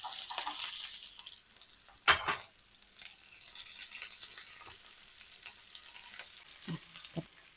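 Onions frying in oil with fennel seeds in a pan for a home-cooked pepper prawn dish, a steady close sizzle broken by stirring scrapes, with a sharp clatter near the middle and a few clinks toward the end.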